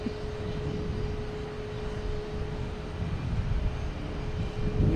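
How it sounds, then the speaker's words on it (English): A Cape Air airplane taxis out at Boston Logan Airport, heard as a steady, distant engine drone and broad rumble with a faint constant whine that swells slightly toward the end. "Another Cape Air sneaking out of here, heading to Bar Harbor."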